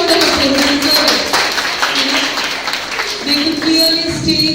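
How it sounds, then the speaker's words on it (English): Audience at an academic seminar on culture and communities applauding, a steady dense patter of many hands clapping close and fairly loud throughout, with no talk over it. "please give them a huge round of applause"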